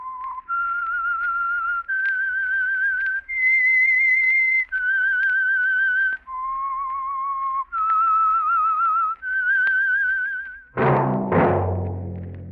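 A melodic whistled tune serves as the signature of the Signal Oil radio program The Whistler, eight clear sustained notes at shifting pitches, loud and alone, followed by a brief burst of orchestral music.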